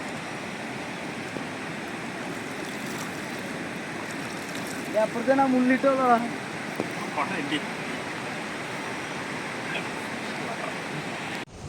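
Rushing water at Athirappally Waterfalls, a steady, broad roar that continues throughout, while a person speaks briefly over it midway.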